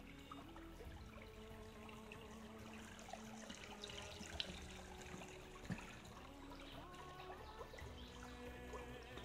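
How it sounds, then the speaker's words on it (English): Creek water poured and trickling into a container while filling up on a hiking trail, a quiet, continuous stream with a few faint splashes, heard up close outdoors. "I'm just going to fill up. This is going to be our little water source, so I'm filling up here"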